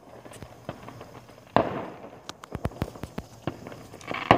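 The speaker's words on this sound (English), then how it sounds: "Look at the fireworks." Fireworks and firecrackers going off ahead of the Fourth of July, a burst of loud sharp cracks and pops in quick irregular succession, one big crackling blast followed by a rapid string of snaps, fairly close.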